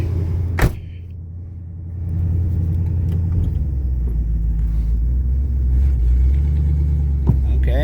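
A 1965 Pontiac Catalina Safari Wagon's engine idles with a steady low rumble, and after a brief sharp knock the tone settles lower and heavier as it is put into gear, running on continuously throughout.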